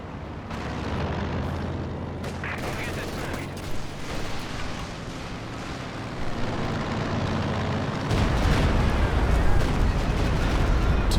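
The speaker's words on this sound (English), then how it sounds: "Good Stuka barrage once more." Stuka dive bomber barrage in Company of Heroes 2, a steady roar of rumbling blasts and battle noise that builds in intensity, surging louder near the end, with faint game voices underneath.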